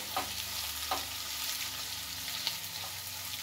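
A quiet, even sizzle of something frying in a pan until golden brown for mushroom biryani, with a few soft stirring taps scattered through it.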